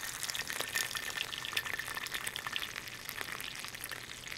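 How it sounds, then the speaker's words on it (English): Water poured over loose tea leaves in a glass, a faint, crackly splashing and fizzing stream lasting throughout, close and without voices. "Pour in water."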